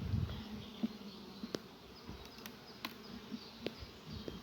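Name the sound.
honey bees buzzing at beehive during inspection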